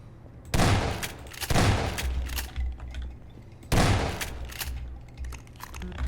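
Gunfire in the video game Half-Life 2: three loud, close blasts with rumbling tails, spaced unevenly over several seconds, with quieter game ambience between them.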